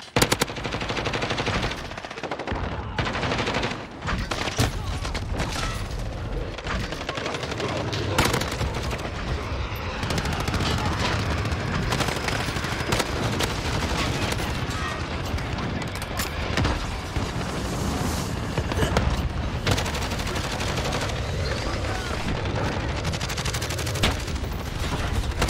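Sustained automatic gunfire from a Grau rifle in a shooter video game, dense, loud and nearly continuous across the whole stretch, with only brief gaps between bursts.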